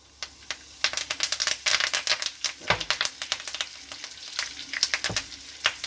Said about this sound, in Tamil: இந்த கருவேப்பிலை போடுறோம் இல்லைங்களா அது நல்லா கொஞ்சம் முருக விட்டுறணும்